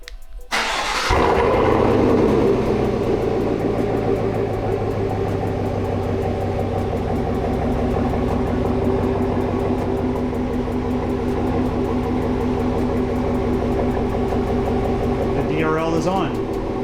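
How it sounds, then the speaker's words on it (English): A pickup truck engine cranks and catches after a remote start, then settles into a steady, close, rumbling idle that continues throughout, with a brief chirp near the end. "Now let's remote start in darkness."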